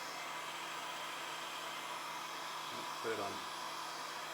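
A heat gun runs steadily, blowing hot air onto a dented plastic panel to soften it and push out a dimple, with a brief spoken remark near the end.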